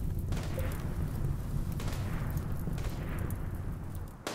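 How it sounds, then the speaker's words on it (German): Explosions in the RimWorld video game rumble as a continuous, loud, low roar with softer bursts layered in, fading slightly before a sharp pop at the end. "Oh nein. Und nächste Explosion."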